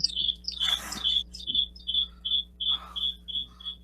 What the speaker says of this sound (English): What is that? Crickets.